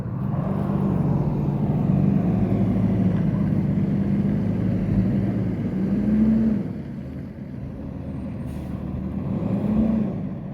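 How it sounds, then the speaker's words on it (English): A dump truck rumbles past on the road, its loud, low engine drone holding steady for several seconds before fading slightly as it moves away. "Salakia, let this dump truck get by."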